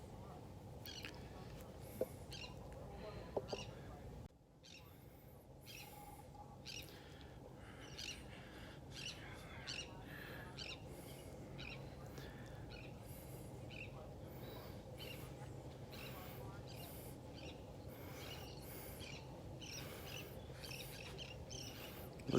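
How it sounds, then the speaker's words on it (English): Gulls and terns call on a beach in North Naples, Florida, with faint, scattered cries over a soft wash of surf and wind, rather distant and low in level. "Listen to those gulls."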